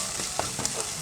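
Chopped capsicum and carrot sauté on high flame for cabbage manchurian, crackling with a bright, constant sizzle and a few soft stirring scrapes close by.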